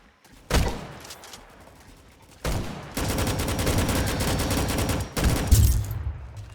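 Shotgun fire in the arcade video game Rolling Thunder: loud, punchy blasts starting around half a second in, then a dense stretch of rapid, rattling gunfire and impacts that runs for several seconds with a final heavy thump.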